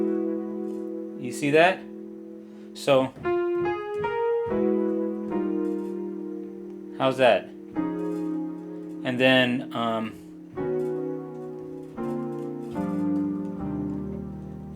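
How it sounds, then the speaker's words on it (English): Sus chord voicings played one after another on a guitar, each chord ringing out clearly with short gaps between them, and someone talking briefly in between the chords. "Now let's say we wanted to use sus chords for that."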